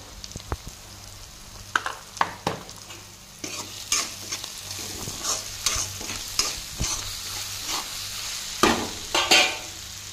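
Tomatoes cooking in a pan with khaparkhuti (punarnava) wild greens, a steady sizzle under repeated spoon stirs and scrapes against the pan, close and fairly loud, no voices.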